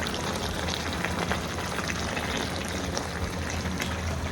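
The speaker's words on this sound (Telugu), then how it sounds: "ఇప్పుడు మనం మ్యారినేట్ చేసుకున్న గిన్నెలో వాటర్ వేసేసాను." Water poured into a bowl of marinated chicken makes a steady, continuous splashing pour, fairly quiet and close, with no talking.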